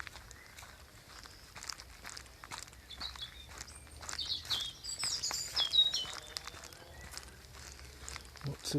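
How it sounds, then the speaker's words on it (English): Birds chirp and sing across an open common during a May walk, with scattered high tweets over soft footsteps and quiet outdoor ambience, brief voices nearby. "Lots of birds here."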